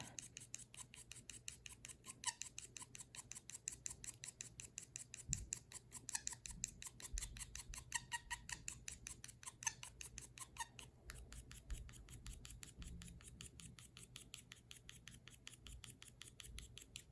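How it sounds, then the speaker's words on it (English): Layers of paint being scraped with a tool for Nagomi-style art, giving a faint, steady, rapid rasping scrape that repeats in even strokes for a long stretch, close up, with no voices. "I will scrape both colors"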